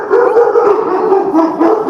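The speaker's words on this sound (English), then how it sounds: "those are my dogs" Dogs howling together, a loud sustained wavering howl that fills the moment close by, with no voices over it.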